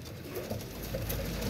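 Teddy pigeons coo softly in a loft, a few low, muffled burbling calls over a faint steady background, fairly quiet and close.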